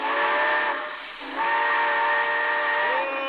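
A loud, sustained steam train whistle blows with rich layered tones, dipping briefly in the middle before sounding again, steady and close.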